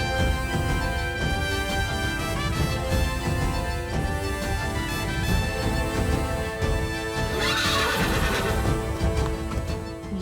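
Horse neighing with hooves clip-clopping, set against a steady dense music bed in an epic Ramayana drama scene, a brighter whinny-like burst rising near the end; no talk in the clip.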